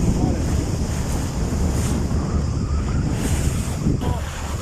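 Wind gusts buffet the microphone over the slosh of open-sea waves during rowing off the Dubrovnik coast between Jakljan and Lopud, a loud, continuous rush with rumbling low-end and faint voices underneath.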